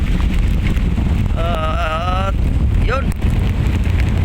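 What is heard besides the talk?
strong typhoon wind at Manila Bay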